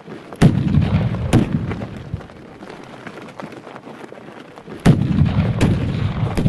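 Gunfire in a film, with four loud, sharp shots in two pairs several seconds apart, each followed by a rumbling tail over a noisy, busy background.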